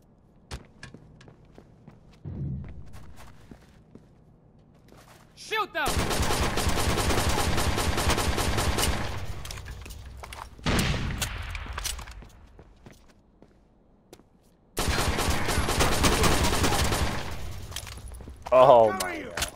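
Bursts of rapid automatic gunfire rattle in a shooter video game, long sustained volleys separated by pauses with a few single shots and footsteps, while players shout and talk over the action.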